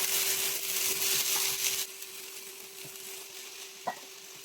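Boiled potatoes going into a pan of browned onions, part of a prawn and potato curry: loud hiss and sizzle for the first two seconds, then a quieter frying crackle with a couple of stirring knocks, alone.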